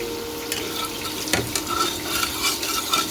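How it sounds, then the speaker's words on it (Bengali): Nigella seeds crackle and sizzle in hot oil, with a few soft clicks of a spoon stirring against the pan. "কালো জিরাটা একটু ফোড়নে দিয়ে দিলাম।"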